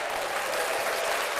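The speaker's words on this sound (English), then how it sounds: "I'm going to clap that up." Dense applause from a podcast studio group, a steady wash of clapping throughout the short stretch with no talk over it.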